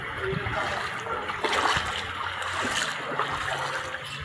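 Water sloshing and splashing steadily as someone wades through deep flood water, close and continuous, with occasional louder surges.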